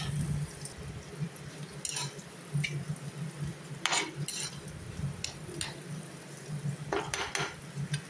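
Shredded cabbage with grated coconut being stirred in a pan for a Tamil-style cabbage poriyal, with repeated metallic spoon scrapes and clinks against the pan over a soft background sizzle, close up and with no talking.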